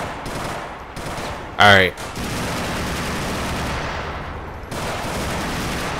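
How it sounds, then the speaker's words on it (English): Gunfire in GTA IV during a police SWAT mission, a short, loud burst of shots standing out over steady game noise, with someone speaking briefly. "these guns are freaking loud as fuck"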